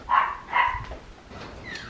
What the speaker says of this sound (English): Oh, the dogs are outside, guys.